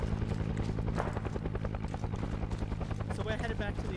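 A video game helicopter's steady rotor thump chops along throughout, with people talking over it and a few brief sharp sounds near the end.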